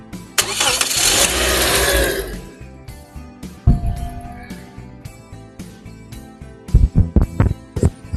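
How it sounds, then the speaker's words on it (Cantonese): A car engine, just fitted with a replacement alternator rectifier, cranks and fires in a loud two-second burst, then settles into a quieter idle with scattered clicks and knocks close by. "咁我哋而家就去着車聽聽，睇佢仲有冇之前嗰種電流聲"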